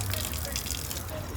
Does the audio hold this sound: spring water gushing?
yes